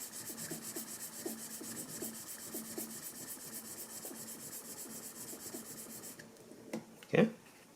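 A blade being sharpened, with repeated rhythmic rubbing strokes close by that stop near the end before a brief louder knock.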